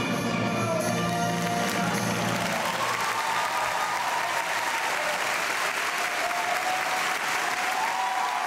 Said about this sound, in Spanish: Cuando Juan Diego Flores canta, la ovación es de pie.